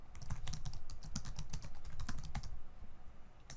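Quick, close clicking of keys on a computer keyboard, a rapid run of keystrokes that thins out after a couple of seconds into quieter background, with no talking.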